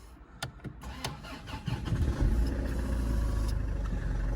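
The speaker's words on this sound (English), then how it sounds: "So let's just try starting the car." A Land Rover Freelander 2 (LR2) being fitted with a winch: a few sharp clicks, then the engine cranks, catches and settles into a loud, steady idle close by.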